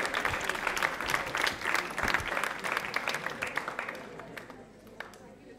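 Audience applause at a quiz show event, sustained clapping from a crowd that slowly thins out toward the end, with a voice talking over it.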